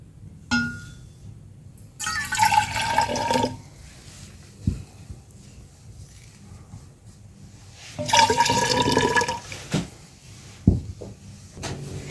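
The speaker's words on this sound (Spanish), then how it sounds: "Ahora voy a mezclar el agua caliente." Hot and cold water poured and mixed in a cup for a classroom experiment, two bursts of splashing, clinking liquid a few seconds each, separated by quiet gaps with a few small knocks.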